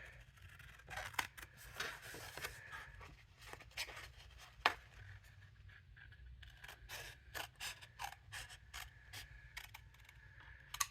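Paper card pieces being cut out with scissors for a pop-out card, a run of quiet, close snips and crisp paper rustles in an irregular rhythm, with one sharper click midway.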